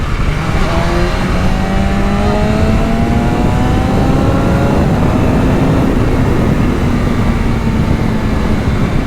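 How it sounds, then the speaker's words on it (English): A BMW S1000RR superbike engine revs hard on a ride, the loud rising and falling engine note climbing through the gears and sweeping steadily alongside heavy road and wind rush, with no talk. "this thing is just a friggin' blast to rip"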